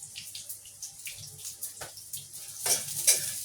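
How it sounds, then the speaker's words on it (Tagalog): Eggplant adobo (adobong talong) being stirred in a pan, with soft scraping and wet clattering strokes repeating at a steady pace and a brief louder splash of liquid near the end. "haluin lang natin na yung ating talong"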